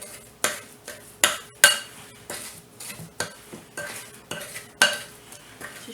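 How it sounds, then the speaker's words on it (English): Spoon pressing sugar and butter together in a bowl, a series of regular scraping knocks against the bowl about once a second, close and clear with no talk. "Just press down with your spoon, and that's called creaming your sugar"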